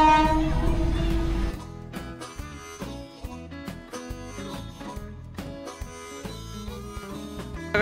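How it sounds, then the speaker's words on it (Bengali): The Darjeeling toy train passes around Batasia Loop, its loud horn blaring at the start, followed by rhythmic clanking and clattering of the small railway wagons rolling by nearby. "ট্রেনটা পুরো ঘুরবে।"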